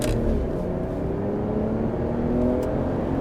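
A 2025 Ram 1500 Limited Longhorn H.O. pickup accelerates hard, its engine a steady rising drone heard close from inside the cab, with no talking.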